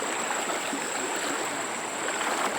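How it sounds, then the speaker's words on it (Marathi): A large river in the Konkan region flows with a steady, even wash of water, continuous and moderately quiet, with no voices over it. "आपण फायनली नदीत आले आहोत नदी भर भरपूर मोठी आहे"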